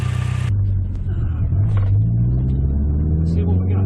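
A Mazdaspeed 3 fitted with MSD ignition coils driving up the road, its engine a steady, loud, close low drone rising slightly in pitch as it pulls, with occasional faint voice.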